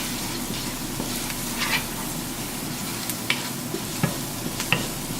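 Onions sautéing with cumin in a pot for Kuwaiti stew, a steady close sizzle and crackle broken by sharp scrapes and knocks of a spoon stirring against the pot.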